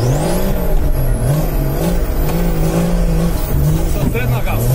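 A Nissan Patrol M57 35d off-road vehicle at an off-road competition, its engine running loud and close with a steady, rising revving drone throughout, voices faintly mixed underneath.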